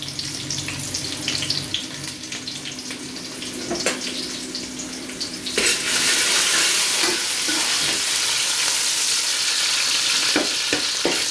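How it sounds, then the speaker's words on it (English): Onion and garlic frying in a pot for a lentils-and-rice cookup, a steady close sizzle with occasional stirring clatter that grows louder and denser about halfway through, with no voices. "So we have the onion, garlic here frying up."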